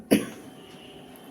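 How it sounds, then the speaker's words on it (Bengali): One sharp, close cough from someone with a cold, a sudden burst that quickly fades into quiet room tone. "ভালোই কাশি বাজিয়েছো তুমি ঠান্ডায়"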